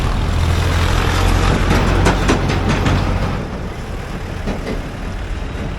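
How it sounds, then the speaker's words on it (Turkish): A tractor's heavy engine rumbles loudly close by on a road in Nepal, droning steadily, then fades as it passes and moves off. "Traktör."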